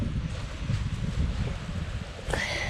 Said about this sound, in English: The wind's going to blow all night.